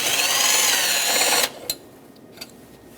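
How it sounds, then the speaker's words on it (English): A power tool with a 10mm deep socket spins off the battery hold-down nuts on a 2012-2018 Nissan Altima, a loud continuous whir for about a second and a half, then stopping, followed by a couple of faint clicks. "Remove these mounting nuts completely."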